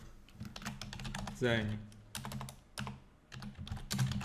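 Keys tapped on a computer keyboard to enter a shortcut in Revit building-design software, a few quick soft clicks scattered beneath someone speaking Polish.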